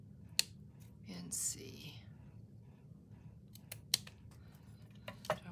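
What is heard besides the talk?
scissors cutting paper for a handmade envelope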